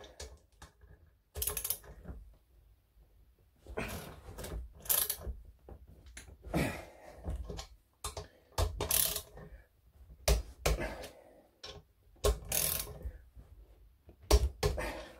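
A torque wrench tightening the rear sprocket bolts on a Honda CB400T motorcycle, with repeated metallic clicks and ratcheting taps in short bursts, close by and fairly quiet, with no talk.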